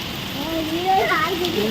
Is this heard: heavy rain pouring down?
yes